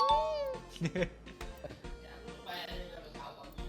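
A cat meowing while an Apex Legends session runs, a clear drawn-out meow at the start followed by softer short mews mixed with background game sounds.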